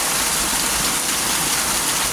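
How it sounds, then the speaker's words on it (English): Steady rain falls on a DIY garden area, a dense even hiss of drops with no breaks, loud and close throughout. "I'm so thankful, Lord, for the rain that's falling"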